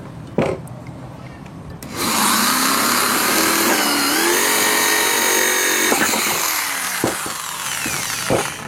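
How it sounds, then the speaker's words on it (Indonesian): Power drill boring a hole into a plastic paint bucket to fit a second pipe for a homemade composter: a sharp click, then a loud continuous whirring and grinding that shifts pitch as the bit cuts through, ending with a few knocks. "baru kita lakukan pengeboran untuk pipa yang kedua"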